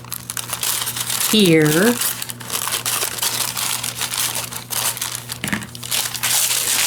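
A glassine bag is cut apart with a steady, close crinkling and rustling of thin, paper-like film, while someone speaks briefly over it.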